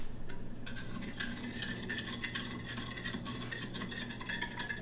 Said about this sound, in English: find me a spoon to mix it up.